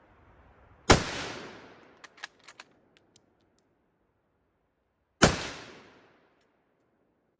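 Two loud, sharp 6.5mm military rifle shots ring out several seconds apart at an outdoor range, each one cracking and then fading in a short echo. Faint metallic bolt clicks fall between the shots.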